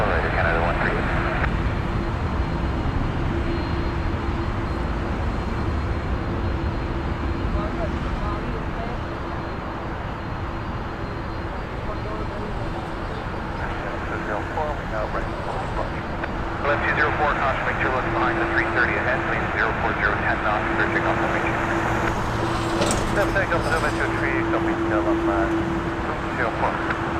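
A Swiss Airbus A330 jet rumbles steadily at Toronto Pearson airport, the engine roar broad and sustained with a faint tone rising near the end, heard under continuous talk.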